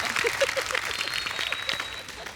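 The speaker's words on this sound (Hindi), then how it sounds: "जोरदार तालियां फीकू भाई दिल से।" A studio audience on a comedy talk show applauds, dense clapping mixed with cheers and voices throughout, fairly loud and close.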